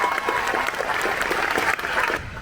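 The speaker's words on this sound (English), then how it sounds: "Please join me in a round of applause for these very special cast members." Steady applause from a crowd honoring EPCOT cast members at the park's 40th anniversary ceremony, a dense wash of clapping that holds evenly throughout and thins near the end.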